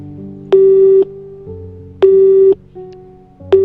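Phone busy or call tone in the Nancy Drew: Midnight in Salem video game: three loud, even electronic beeps, each about half a second long, repeating about every one and a half seconds over quiet background music.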